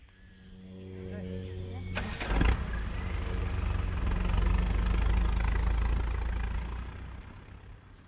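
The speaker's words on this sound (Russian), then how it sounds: "Шум двигателя выводит слона из задумчивости" A vehicle engine runs near an elephant in the Botswana bush, a low droning rumble that swells louder over several seconds and then fades, with a brief knock early on.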